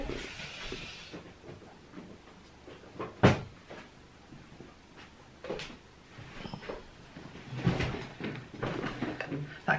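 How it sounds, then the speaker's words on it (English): Pens knocked over indoors, giving a few scattered sharp clattering knocks and thumps spread over several seconds against low room noise. "Crash bang wallop was me knocking over some pens."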